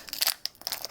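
A Pokemon card booster pack tears open in a short burst of crisp, crinkly foil ripping, a few quick close rustles and crunches with no voices.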